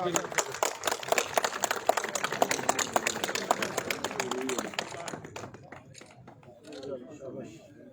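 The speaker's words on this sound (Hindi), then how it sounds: "तालियां भी बजा दें यार" Applause breaks out at the trophy ceremony of the All Pakistan Syed Ali Gilani Memorial volleyball tournament, dense clapping from a crowd that fades out after about five seconds, with voices and chatter continuing underneath.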